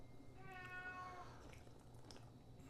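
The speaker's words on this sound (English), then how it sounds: "If you hear squawking in the background, that's one of the bourbon kitty cats." A single drawn-out cat meow, faint and distant, over a low background hum.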